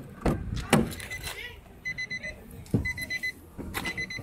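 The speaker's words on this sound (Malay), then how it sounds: "Tekan auto unlock. Unlock, terus buka pintu." A Nissan Almera keyless smart alarm gives a series of short, sharp electronic chirps in quick bursts during unlocking, mixed with door clunks and a person talking nearby.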